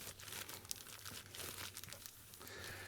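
Material is crumpled into a tight ball and pushed firmly into a pipe, giving a quiet, continuous crinkling and rustling with small crackles throughout and no speech.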